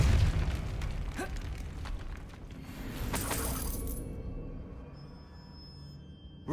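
Depulso force spell blast in Hogwarts Legacy, a booming burst with sharp cracks and clattering debris, followed by a fading ringing tail and quiet.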